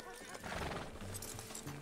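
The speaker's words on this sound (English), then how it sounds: "Get your horse and let's go." A horse whinnies and its hooves clip-clop on the ground in Red Dead Redemption 2, a short, close sequence over faint background game sound.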